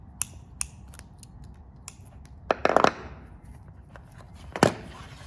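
Cat6 network cable being snipped with a cutting tool while crimping for cameras and access points, heard as a few sharp close clicks and a short crunchy cluster of cuts, then one more firm snap.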